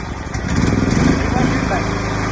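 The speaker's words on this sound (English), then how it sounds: "it's an ultra compact noise version Bajaj and petrol generator set, self start" An ultra-compact, noise-reduced Bajaj 10 kVA self-start petrol generator set runs close by with a low, steady engine drone, while a voice talks over it.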